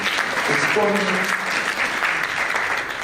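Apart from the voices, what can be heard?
audience applause for a lecture speaker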